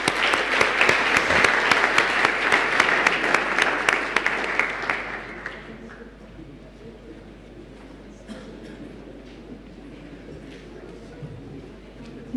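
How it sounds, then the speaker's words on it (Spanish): An audience at a water-footprint conference in Chile claps steadily and loudly, then the applause tapers off into quieter room tone with scattered faint sounds. "Les damos un aplauso"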